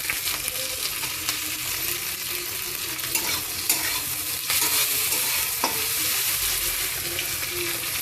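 Tomatoes are added to onions frying in a pan for mutton curry, producing a bright, crackling sizzle with stirring scrapes and clatters, close and continuous, with no voices.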